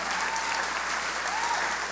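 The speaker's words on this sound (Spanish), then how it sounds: "des un aplauso poderoso a esa justicia" Steady, dense audience applause fills the whole moment, a large crowd at a church service clapping continuously.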